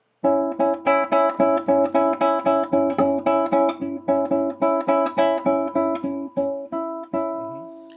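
A guitar plays a steady run of single notes plucked with flesh and nail, about three per second, each with a bright, twangy attack and short ring, alone and close.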